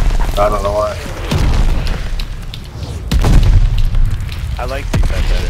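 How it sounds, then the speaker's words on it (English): A mortar barrage in Call of Duty Vanguard multiplayer: loud booming impacts and rumbling blasts land one after another, with a player talking over them. "Allies calling a mortar barrage"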